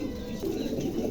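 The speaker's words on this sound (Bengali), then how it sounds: "এই মোট হচ্ছে 6 পিস কবুতর।" Several pigeons give a steady, low cooing close by, with faint chirps over it.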